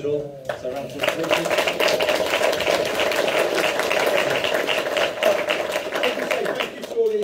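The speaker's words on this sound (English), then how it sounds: "So, round of applause." An audience at a general election hustings in Stapleford applauding, with dense, sustained clapping from a crowd in an indoor hall that swells quickly and holds steady for several seconds.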